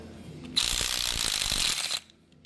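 A ratchet wrench clicks rapidly and steadily for about a second and a half as 15 mm bolts come off the front axle of an LS R3039H tractor, close and loud against a quiet shop background.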